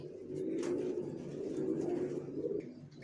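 Racer pigeons coo in soft, low, rolling phrases close by, one bird's throaty call continuing for a few seconds with faint rustling around it.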